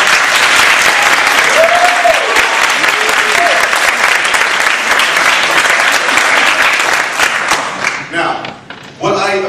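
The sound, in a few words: audience applauding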